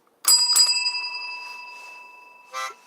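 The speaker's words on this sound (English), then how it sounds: "Oh, I got to ring the bell." A small bell rings out brightly, struck twice in quick succession with a long metallic ring fading away, then a third short ring near the end; close by and clear, no voices.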